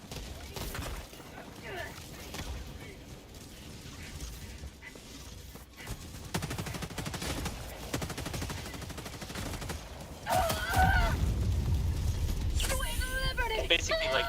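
Grenade throws and gunfire in the video game Helldivers 2 come as rapid bursts of shots and a heavy blast near the end, with a player talking over the battle noise.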